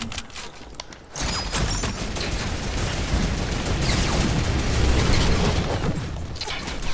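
A mounted turret in the Fortnite video game fires a loud, continuous burst of rapid gunfire that starts abruptly after a brief pause and keeps hammering for several seconds.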